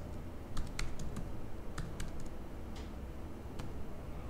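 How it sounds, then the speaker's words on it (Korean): Scattered keystrokes on a computer keyboard, including an Enter press, while launching Jupyter Notebook on a Jetson Nano. The taps are close and clear over a low background hum, with no voices. "그리고 엔터를 쳐요."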